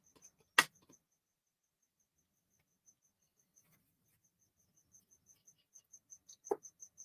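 Crickets chirping faintly in a quiet indoor setting, a sparse run of short regular chirps that quicken toward the end, with a couple of brief sharp knocks.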